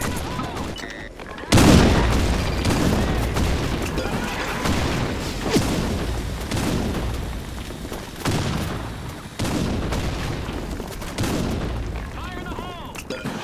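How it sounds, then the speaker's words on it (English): Grenade explosions and gunfire in the shooter game BlackShot, with a heavy boom at the start followed by dense bursts of shots and crashes at close range, and voices calling out over the combat. "Grenade! Fire in the hole!"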